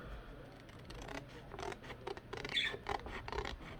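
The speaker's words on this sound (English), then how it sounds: "so I think I'll cut it out." Scissors snipping through a printed picture cut from a magazine page, with a run of close, crisp cuts and paper rustling throughout, louder toward the end.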